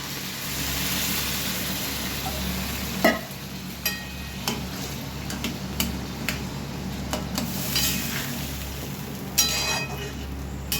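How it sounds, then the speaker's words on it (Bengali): Water is poured into a hot cooking pot of fish head and gobindo bhog rice murighonto, giving a loud sizzling hiss at first that settles into a softer simmer with scattered clinks and taps. "পরিমাণ মতো জল দিয়ে দিচ্ছি।"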